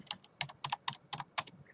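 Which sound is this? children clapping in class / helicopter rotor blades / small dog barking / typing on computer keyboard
typing on computer keyboard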